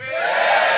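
A live comedy podcast audience cheers and whoops together, a brief, loud burst of crowd noise.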